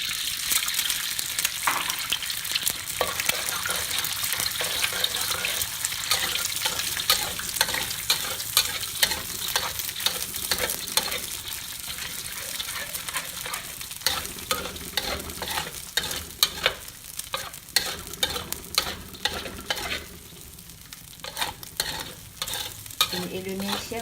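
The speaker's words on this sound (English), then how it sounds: "We will scramble the eggs." Eggs being scrambled in a frying pan for Balinese fried rice, a continuous sizzle broken by frequent scraping and tapping strokes of a spatula in an uneven, busy rhythm.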